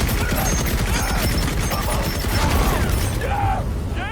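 Rapid mechanical cannon and machine-gun fire from a bomber crew shooting at enemy planes in an animated scene, a dense, continuous rattling clatter that holds loud and steady throughout.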